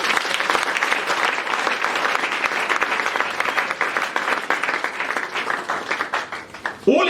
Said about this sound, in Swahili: Pika makofi kwa Yesu.